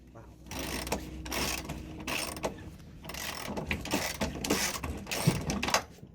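Rear leaf spring bolts being loosened on a Jeep Cherokee XJ: close, repeated bursts of metallic ratcheting and clicking with brief pauses between pulls, and no talk.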